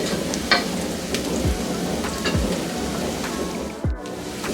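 Onions fry in a pan with a dense, steady sizzle and crackle, close and fairly loud, broken by a few soft knocks and stirring scrapes.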